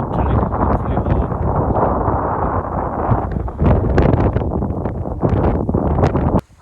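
Gusty wind on a hillside hiking trail at Kai Kung Leng (Roosters Ridge) buffets the microphone in a loud, continuous roar with surging gusts, cutting off abruptly at the end, with no speech.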